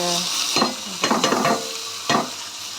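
Stirring in a pan of frying food for Tamil-style kadamba, with tomatoes being cooked, gives a steady sizzle broken by several scraping stir strokes, close and fairly loud, with no talk.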